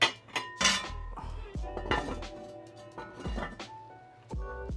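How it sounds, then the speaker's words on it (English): A lid is set onto a container of wing brine made from cider vinegar, white vinegar and salt, giving a few sharp, close clinks and knocks of dishware over several seconds. "Put a lid on this."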